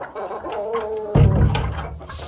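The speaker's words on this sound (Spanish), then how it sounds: "ya es la hora de dormir de las gallinas" Hens settling in to roost at dusk give soft, close clucks and low murmuring calls, with a louder burst of clucking partway through, over a quiet coop.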